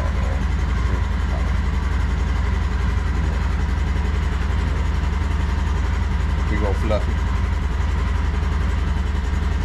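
A vehicle engine idles steadily throughout, a constant low rumble close by under someone talking, with ducks nearby.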